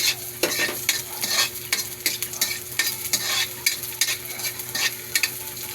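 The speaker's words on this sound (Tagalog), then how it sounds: "Gisa na guys ng luya." Ginger and garlic sautéing in a pan, a steady sizzle broken by repeated sharp scraping stirs of a utensil against the metal, close and fairly loud with no talking.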